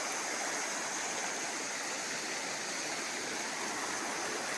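Clear water in the Atlantic Forest of the Serra do Mar pours down over rocks in a stream, making a steady, dense rushing and splashing wash that stays even throughout, close and alone with no voices.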